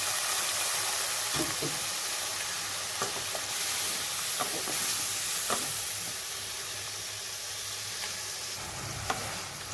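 Spice paste of ground coriander, cumin and turmeric with a little water sautés and stirs in a pan for a Bengali fish curry, a steady close hiss with scattered scrapes and faint clicks of the spoon.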